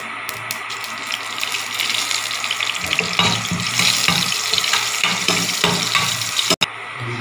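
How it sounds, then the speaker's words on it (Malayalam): Mustard seeds crackle and pop as they fry in hot coconut oil, a dense, close sizzle with scattered sharp pops throughout. "കടുക് പൊട്ടി തുടങ്ങി നമുക്ക് ഇതിലേക്ക് വറ്റൽ മുളകിടാം."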